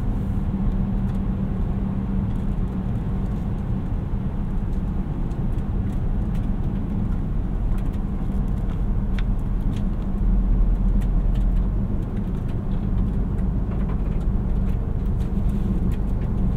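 A 2019 Volvo S90 T5 Momentum is heard from inside the cabin while driving, a steady low road and engine hum with tire rumble, continuous and moderately loud, without talk.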